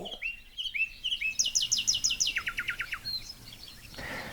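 A nightingale sings a bright, varied song of clear whistled notes and rapid trilled phrases, fairly close, with no one talking.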